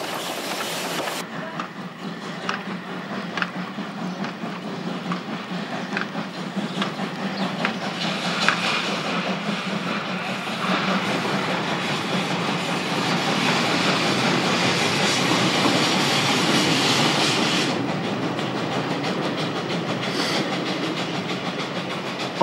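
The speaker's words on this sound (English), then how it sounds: "What matters is that the loco runs smoothly without labouring on a slow climb." Steam locomotive working smoothly up a slow climb, a steady rumble of the train with rhythmic clatter from the wheels that swells in the middle and eases near the end, continuous and moderately loud.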